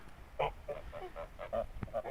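Kholmogory geese honk in a short run of nasal calls, several close overlapping honks in quick irregular succession, fairly quiet and outdoors.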